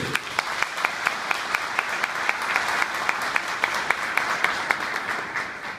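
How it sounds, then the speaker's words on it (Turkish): Sustained applause from a political rally audience in İpsala, Turkey, steady dense clapping with a few sharper claps standing out, fading slightly at the end; no voices over it. "Bu davranış için sizlerden de alkış bekliyorum arkadaşlar"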